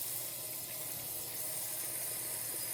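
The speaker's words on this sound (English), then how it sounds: "maybe a final rinse, get some of that dirt off" Running tap water rinsing fresh grapes in a strainer, a steady hissing gush of water that stays even and moderately quiet for the whole stretch, with no voices.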